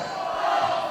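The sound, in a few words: wrestling crowd chanting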